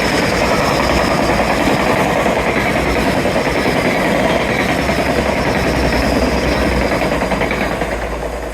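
A train rolls past along a seawall, a loud, steady rumble with rhythmic clickety-clack from the wheels that holds for several seconds before easing slightly at the end, with no voices.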